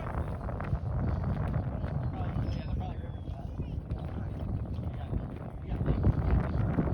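Steady wind blowing across an outdoor vintage baseball field, a constant broadband rush buffeting the microphone, with a swell near the end under faint background voices.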